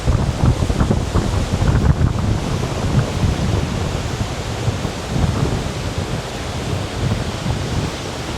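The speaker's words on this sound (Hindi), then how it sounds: "और इस वाटरफॉल के करीब काफ़ी विंडी है" Strong wind roars near a waterfall in Adelboden, Switzerland, buffeting the microphone in a loud, continuous rumbling gust that blends with the rushing water, with no voices.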